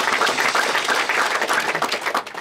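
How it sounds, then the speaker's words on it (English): Church congregation clapping in praise at a worship service, a dense steady wash of many hands applauding together for a couple of seconds, close and fairly loud with no talking. "Give the Lord a clap of praise."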